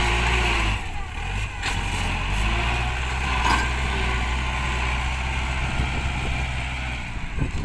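Heavy tractor and excavator engines rumble steadily at a large land-filling site, a continuous low drone with occasional clanks and shifts in revving.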